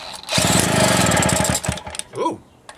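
A small Mobylette moped engine, recently worked on for fuel and ignition, with its enrichment lever set, fires up and buzzes loudly for about a second before sputtering and dying, then a voice exclaims.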